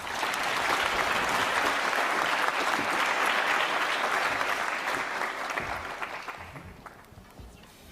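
Audience applause welcoming Geoffrey Hinton to the stage, a dense sustained clapping from a large room that holds steady and then thins out and fades toward the end.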